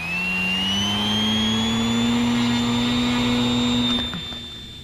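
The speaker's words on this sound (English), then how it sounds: "we're going to do Motor on." The electric motor of a radio-controlled Arrows SZD-54 glider runs close and loud as a steady high-pitched whine with a strong tonal hum, slowly rising in pitch, then cutting off near the end.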